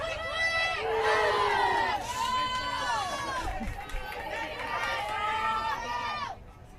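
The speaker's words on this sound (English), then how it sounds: "And the crowd goes wild." A crowd cheers and shouts loudly after a two-out, two-run triple at a 2019 ASANA Softball World Series C Division championship game. Many excited voices overlap in a sustained roar that fades near the end.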